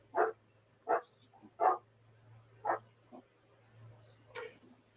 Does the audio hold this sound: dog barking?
yes